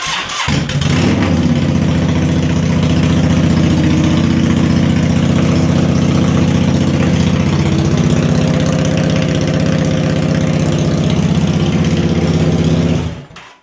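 Yamaha V-Star 650 cruiser with straight-piped exhaust and no baffles fires up and idles, a loud, close, rough rumble holding steady before cutting off at the end.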